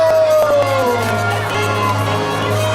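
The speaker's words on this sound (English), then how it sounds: "Give a big wave and a round of applause for the little mermaid herself, Ariel!" Crowd at a Disney-MGM Studios parade cheering for Ariel, the little mermaid, a steady loud outdoor hubbub of voices and whoops over a low, constant hum from parade equipment, with music-like tones drifting through.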